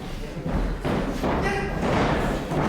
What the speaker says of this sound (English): I'm just going to let the chop speak for itself.